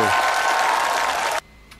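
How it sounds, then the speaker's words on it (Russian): Audience applause for a singer, a dense, loud wash of clapping that cuts off abruptly near the end, followed by quiet. "Ваши аплодисменты"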